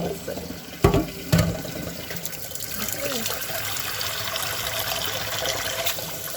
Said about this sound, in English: And this is cold water.